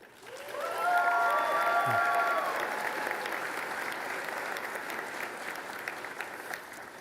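Audience at a physician assistant and physical therapy graduation ceremony applauding award recipients, a dense sustained wash of many hands clapping that swells early and holds steady, with a brief tonal chime near the start.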